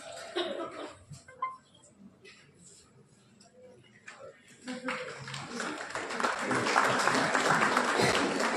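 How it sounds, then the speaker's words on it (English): An audience at a college law conference breaks into applause, starting with scattered coughs, light claps and murmurs and then swelling into dense, sustained clapping over the last few seconds. "Everyone, a big round of applause for Shri Ankur Panghal."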